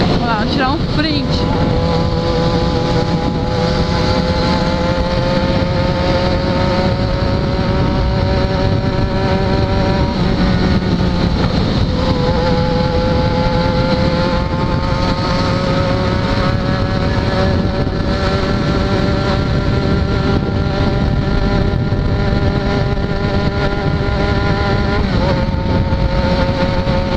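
A blue Suzuki SRAD 750 in Lucky Strike livery runs close and loud, its engine note holding steady and then rising in pitch through the gears, with the rumble continuous throughout.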